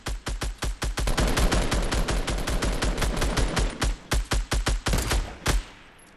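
Rapid bursts of gunfire in Fortnite, a loud string of sharp separate shots, some clustered in quick volleys, ending in a short decaying tail, with no voices.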